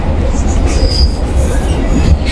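A train from Spanish Town to Old Harbour, Jamaica, rumbles loudly along the rails, steady clatter with a high metallic wheel squeal rising briefly, close and continuous.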